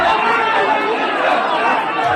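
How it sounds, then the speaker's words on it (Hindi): A large crowd gathered for a Muslim cleric's funeral in Budaun, Uttar Pradesh, a loud, steady wash of many voices chattering at once with no single speaker standing out. "यह भीड़ उमड़ी है उत्तर प्रदेश के बदायूं जिले में"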